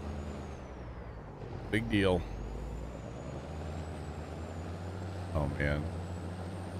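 A truck engine drones low and steady in Farming Simulator 22, broken by two sharp hissing bursts of air brakes, with someone talking over it.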